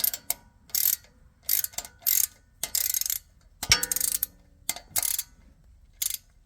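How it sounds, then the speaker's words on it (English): Hand ratchet loosening a wheel speed sensor bolt on a 2012 Ford Focus, heard as repeated bursts of close, crisp clicking in short strokes with brief pauses between, plus one sharper metallic clank midway. "I'm just gonna ratchet that."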